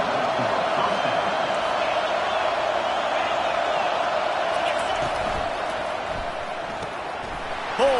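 Steady stadium crowd roar in a college football video game on PS5, a loud continuous wash of cheering that holds for the whole stretch, with a sharp thump at the very end.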